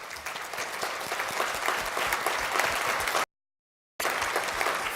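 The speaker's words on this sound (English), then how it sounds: "the people in this room deserve a round of applause from the public" A room full of people at an annual general meeting claps together, a dense sustained round of applause that holds steady for about three seconds, cuts off, then resumes.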